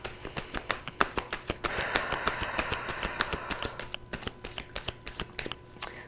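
Tarot cards are shuffled by hand during a reading: a steady run of crisp riffling taps and flicks, close and fairly quiet, thickening into a denser rustling burst midway before the separate snaps return.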